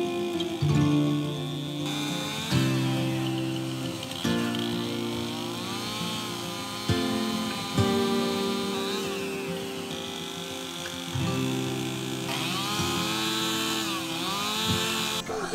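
A chainsaw cuts freehand during a house renovation, its loud engine whine rising and falling as it bites and revs across the whole stretch, with brief drops in pitch between cuts and no talk.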